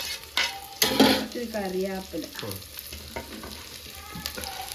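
Green chillies and crushed shallots fry in a pan for a Kerala toddy-shop style mackerel curry, a steady sizzle broken by sharp spatters and utensil clinks, with brief tonal scraping sounds.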